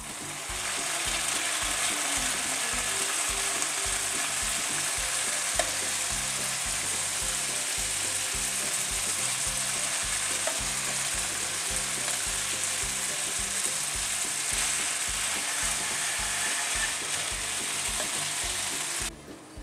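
Steady sizzling of cooked spaghetti in a hot pan with scraping and stirring throughout, no voices, close and continuous.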